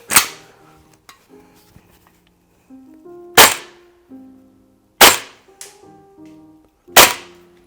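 Tokyo Marui M4A1 MWS CQBR Block 1 gas blowback airsoft replica test-fired with 0.20 g BBs at 110 PSI: four sharp, loud, spaced shots with metallic clacks of the action between them.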